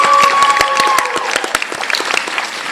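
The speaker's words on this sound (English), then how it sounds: "Can we give them an applause," A room full of people at a university nursing pinning ceremony claps steadily for a few seconds, the applause loud and close, with a faint tone sounding briefly at the start.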